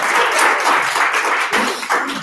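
Audience at a London founders' meetup venue clapping, a dense, continuous round of applause heard close and loud for a couple of seconds.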